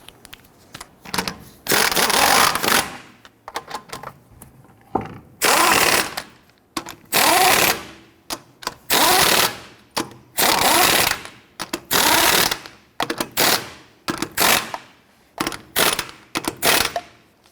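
A ratchet or power tool snugs down fender liner fasteners on a Nissan Frontier in repeated loud, close bursts of about a second each, separated by short pauses.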